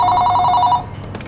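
Telephone rings at a hotel front desk with a rapid electronic trill, loud and close, lasting under a second before cutting off to quiet.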